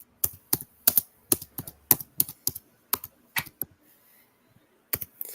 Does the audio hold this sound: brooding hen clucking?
no